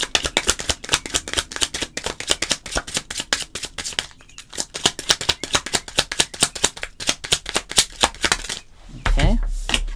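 Tarot cards being handled up close, a dense run of quick flicks, riffles and soft slaps as the deck is worked and cards are laid out, with a short lull midway and a heavier rustle at the end.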